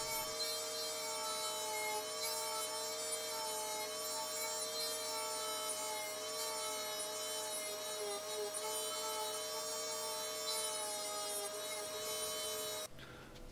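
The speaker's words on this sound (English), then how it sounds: "I figured that the easiest way to get rid of the center part that was still remaining was to use my multi-tool to get rid of that." A multi-tool grinds out the leftover center of a handmade crankbait lure body, a steady high-pitched whine with bright tonal bands running continuously and close, cutting off abruptly near the end.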